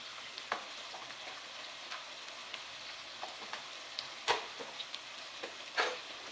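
Bhindi (okra) with red chili and coriander powder stirred in a frying pan, a soft continuous sizzle with occasional scraping clicks of the spoon, quiet and close.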